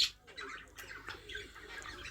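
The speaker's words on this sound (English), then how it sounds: "But I'll just show you a closer look at these wee birds here." Budgies in a breeding room give scattered chirps and squawks at low level, with a thin, busy chatter of bird calls throughout.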